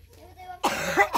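One close, sharp cough after a moment of quiet, with a faint low voice just before it.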